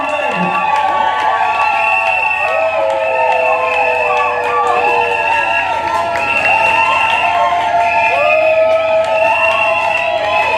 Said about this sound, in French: Applaudissez très fort pour son âme.